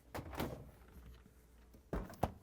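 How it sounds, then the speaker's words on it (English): Two pairs of soft thuds from Whirlpool/KitchenAid/Maytag refrigerator doors closing nearby, one pair early and another near the end, with quiet room noise between. "And now we can close both doors."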